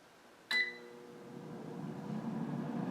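One short electronic beep from a Cosori Dual Blaze air fryer set to 400 degrees for 7 minutes, followed by a rising low hum as the fan starts running.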